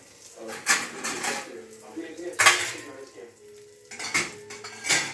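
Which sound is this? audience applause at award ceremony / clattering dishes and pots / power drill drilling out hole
clattering dishes and pots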